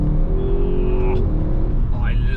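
An Audi RS 6 with its V8 engine and exhaust revs loudly and close, a deep rumble climbing in pitch and then dropping, with a second short rev near the end.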